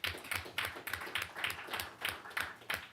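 Audience applause at a board of education meeting: a small group claps in a steady, even rhythm, moderately close and fairly quiet, with no talking over it.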